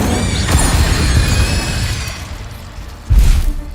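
Incendio fire spell cast in Hogwarts Legacy, a roaring crash of flame that fades, then a second loud whooshing burst near the end, with no talking.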